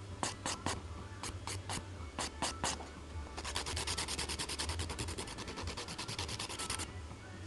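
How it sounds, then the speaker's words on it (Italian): An acrylic nail tip being filed to a thin point with a hand file, close and quiet: a few separate scratchy strokes, then a fast, continuous run of rhythmic back-and-forth rasping. "Sfinate per bene la punta."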